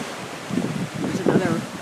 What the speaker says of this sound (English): Must be high tide coming in.